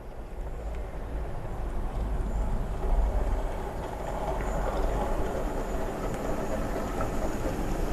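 A Kato Peco 009 narrow-gauge model locomotive runs on a layout, slipping on an unlevel board while hauling very heavy wagons; a steady, continuous mechanical rumble and rattle carries on throughout, with no talking.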